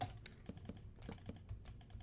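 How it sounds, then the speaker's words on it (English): Rapid, uneven clicking of a computer mouse, close and fairly loud, with a few hard clicks standing out among softer taps while a game of Minecraft Skyblock is played on PC. "this clicking noise is probably really loud. That's just my own mouse."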